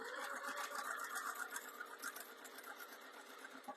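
A sewing machine top-stitches a fabric jewellery pouch, its close, steady motor whir and rapid needle chatter running without a break for the whole stretch.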